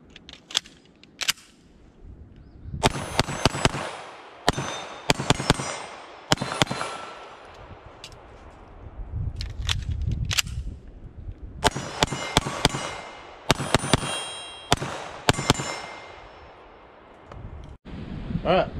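Walther PDP Pro SD full-size 9mm pistol fired at targets about 15 yards out, with sharp, loud reports arriving in quick clusters of several shots, separated by short pauses, outdoors.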